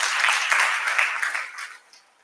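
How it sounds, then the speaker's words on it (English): A crowd at an annual general meeting claps together, a dense wash of applause that fades away over about two seconds. "Please clap for yourself."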